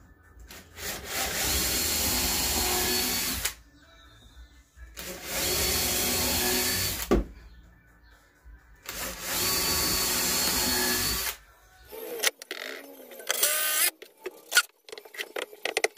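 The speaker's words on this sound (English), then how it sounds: "Now I can pilot them." Power drill boring pilot holes into scaffolding boards for a wooden planter, three sustained loud bursts of whirring with short pauses between, followed by lighter clattering handling noises.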